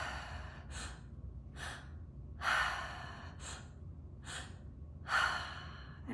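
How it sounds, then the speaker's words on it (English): Rhythmic breathwork: sharp inhales into the low belly and upper chest followed by longer audible exhales, repeated in a steady cycle, close and fairly quiet, with no talking. "So inhale, low belly, inhale, upper chest, and exhale."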